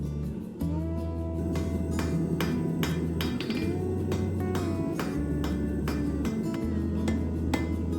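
Blacksmith hammering a small piece of steel on an anvil to forge a leaf, rapid repeated ringing metallic blows over a continuous low forge hum, close and loud.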